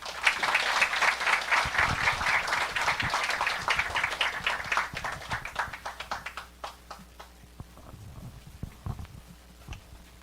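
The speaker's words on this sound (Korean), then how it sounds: "우리 박수로 환영하겠습니다." Church congregation at a Wednesday worship service clapping to welcome a missionary, a dense burst of applause that thins out into scattered claps and footsteps as it fades.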